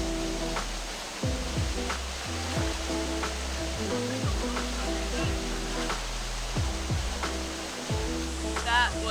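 Water of a creek in Olympic National Park, Washington, rushing steadily and fairly loud, a continuous broadband wash filling the whole stretch with faint low background sounds underneath.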